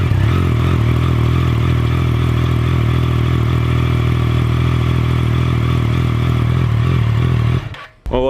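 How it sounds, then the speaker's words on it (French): A Triumph Trident motorcycle idles with the baffle fitted in its exhaust, a steady, loud, close engine drone that holds for about seven seconds before cutting off abruptly. "ça c'était le démarrage avec la chicane"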